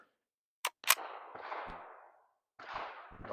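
Rimfire rifle shots ringing off steel plates in a Steel Challenge stage: two sharp, close cracks in quick succession, then a longer metallic ringing, and another ringing impact a moment later.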